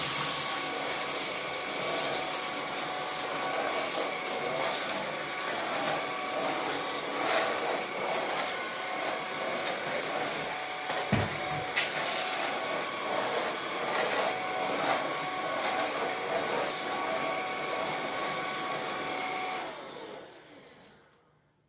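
Vacuum cleaner running continuously on a floor as it sucks up scattered scent beads, a loud steady whine with a brief thump midway, then winding down and cutting off at the end.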